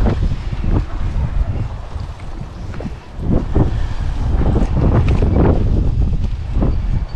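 Wind blows outdoors and buffets the microphone in a loud, continuous roar that swells in gusts, with no talking.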